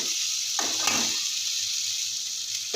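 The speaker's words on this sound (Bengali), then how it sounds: "আলু মোমো দিয়ে একটা একটা করে ভেজে তুলে নেব" Potato momos, made from flour and potato, fry in hot oil with a steady, close bright sizzle, broken briefly by a louder scraping bubble burst early on.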